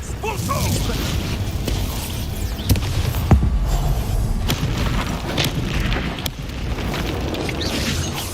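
Expulso spell blasts from the Hogwarts Legacy video game, a dense continuous roar of booming explosions, whooshes and crashing impacts that stays loud throughout with sharper hits near the middle, with voices mixed into the battle din.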